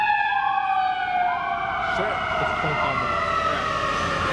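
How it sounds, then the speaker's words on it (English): An ambulance siren wails through its rising and falling sweeps as it passes, loud and fairly near, and a brief spoken word sounds over it. "we got an ambulance"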